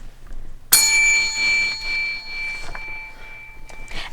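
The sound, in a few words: doorbell ringing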